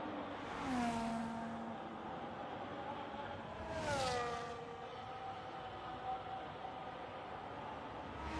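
Race cars in a racing video game at Las Vegas, USA, with engines whining and rising in pitch as two cars sweep past one after another against a steady background roar.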